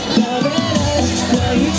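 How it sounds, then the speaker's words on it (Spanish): A crowd cheers and applauds at a swimming meet for the Club Atlético Willan Kemi from Las Rosas, a dense, steady roar of voices and clapping with an announcer's voice over it. "Un fuerte aplauso para el Club Atlético Willan Kemi"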